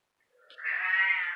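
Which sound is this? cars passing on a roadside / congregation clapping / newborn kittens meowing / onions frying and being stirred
newborn kittens meowing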